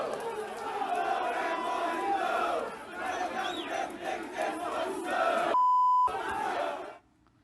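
Flamengo supporters at a match against Athletico Paranaense in Cariacica chant a rhythmic protest against Gabigol and the club board, a loud crowd singing in unison, cut briefly by a steady censor beep before ending abruptly.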